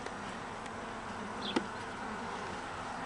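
Carniolan honeybees hum inside an opened backyard hive during an inspection, a continuous close buzzing drone with a brief tap partway through and no voices.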